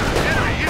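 Dense gunfire in the WWII game Company of Heroes during the Omaha Beach landing, a brief, loud, continuous wash of shots and battle noise with no distinct pauses.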